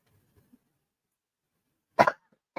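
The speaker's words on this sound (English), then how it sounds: "And I'm just going to have a coughing fit." Near-silence broken by two harsh coughs, one loud and close followed shortly by a shorter one.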